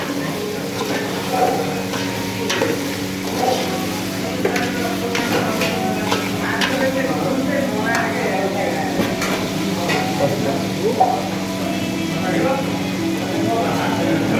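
Onions frying in a pan for vegetable rice while a spoon stirs them, a steady loud sizzle with scraping and clattering stir strokes throughout.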